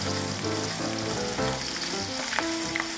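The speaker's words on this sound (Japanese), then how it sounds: "170度に温めた揚げ油にエビを加えて、両面を約1分30秒ほど揚げて油を切ります" Shrimp deep-frying in oil heated to 170 degrees, a loud, constant close-up bubbling sizzle with crisp pops and crackles throughout.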